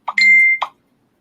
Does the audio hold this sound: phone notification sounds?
yes